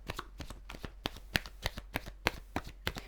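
Tarot cards riffled and shuffled in quick, rhythmic bursts of crisp flicks and slaps, close and fairly quiet, with no talking.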